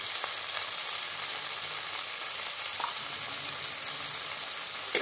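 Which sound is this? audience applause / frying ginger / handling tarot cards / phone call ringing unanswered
frying ginger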